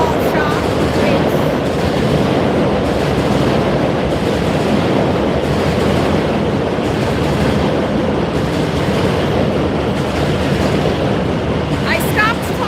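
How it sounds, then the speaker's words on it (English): Train rolling by close and loud, a continuous heavy rumble and rattle of wagons that fills the whole stretch without letting up. "the train is loud and distracting"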